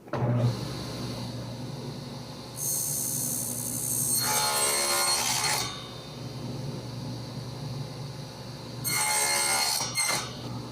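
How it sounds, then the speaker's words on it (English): A running saw set to half the board's thickness cuts a dado in wood for a Husqvarna tractor carrier mount. A steady motor hum is broken by two loud, rasping cutting passes, close and with no voices. "I have my saw set here now to cut half the thickness, and I have marks here where the dado is going to go."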